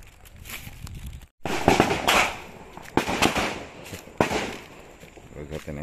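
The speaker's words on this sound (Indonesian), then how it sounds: "itu bukan suara orang hajatan, tapi Brimob ya lagi latihan tembak" Brimob police gunfire at shooting practice cracks out in sharp, repeated reports at irregular intervals, heard outdoors beneath close conversation.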